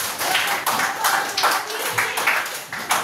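A classroom full of people claps steadily for a few seconds, a dense patter of hand claps without a break.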